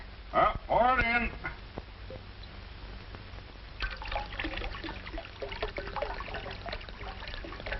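Grape juice trickles and splashes into a bowl, a steady liquid pour beneath people talking back and forth.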